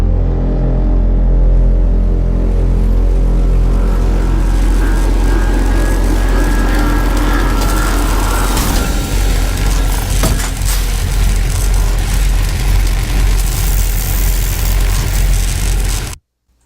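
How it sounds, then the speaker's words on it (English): A sci-fi dropship arrival effect for an audio drama builds from a loud, heavy engine drone into a roaring jet wash, with mechanical clanks and a horn-like tone in the mix. It runs continuously for about sixteen seconds, then cuts off abruptly. "we're going to only look at the arrival sound effect"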